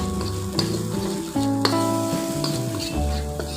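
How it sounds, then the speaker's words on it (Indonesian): Spice paste for chicken soto sautéing in a pan, a steady close sizzle with stirring scrapes, joined by a tonal hum and clatter from the kitchen for a few seconds. "Ini kita tumis sampai benar-benar wangi dan bumbunya itu benar-benar matang ya."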